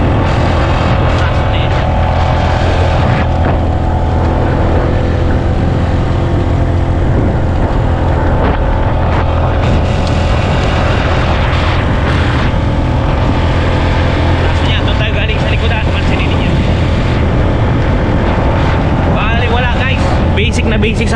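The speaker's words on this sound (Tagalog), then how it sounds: "Hindi man na nagagalit yung engine natin guys, napapakinggan ninyo." A Honda Giorno 125 scooter engine pulls steadily uphill on a mountain road, a loud continuous drone mixed with heavy wind buffeting on the microphone while someone talks over it.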